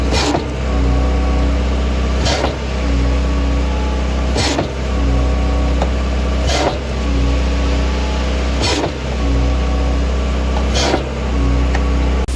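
Concrete mixer truck engine running steadily at a pole barn concrete pour, a loud continuous rumble with periodic sharp clanks or bursts every couple of seconds, no talk.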